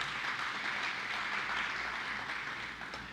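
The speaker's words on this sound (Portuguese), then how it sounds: "Dá um aplauso a Jesus aí para você aprender." A church congregation applauds in a continuous dense wash of clapping that holds steady and eases off slightly near the end, with no clear voices on top.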